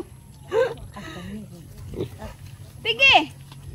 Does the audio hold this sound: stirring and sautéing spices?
no